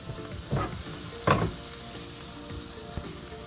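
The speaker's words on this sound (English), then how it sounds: "You're gonna just saute this for about 2 minutes" Omelette fillings sautéing in a hot pan for a supreme fully loaded omelette, a continuous sizzle broken by a few louder scraping stirs of the spatula, the loudest midway through.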